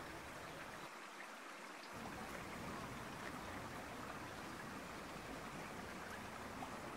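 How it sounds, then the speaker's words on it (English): River Wye rushing in fast at high tide, a steady dense wash of flowing water filling the whole clip, with no talking. "the river's still flowing in very fast"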